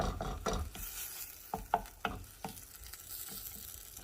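Chorizo sizzles and pops in a preheated pan with no oil, a crackling fry broken by a series of stirring and scraping strokes.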